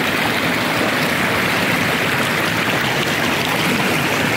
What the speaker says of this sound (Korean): 물소리가 쫄쫄쫄쫄 흐르는 이 물 속에서